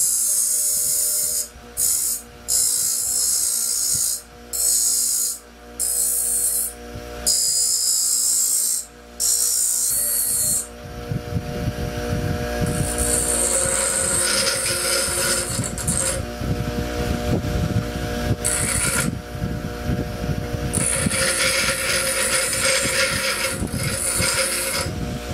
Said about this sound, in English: Okay, I've got the lip ground off.